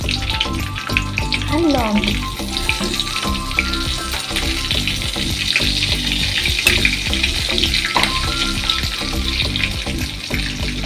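Whole cumin, dried chilies, cinnamon, cardamom and cloves sizzle loudly and steadily in hot oil, with a dense close crackle throughout and a few brief spoken words over it.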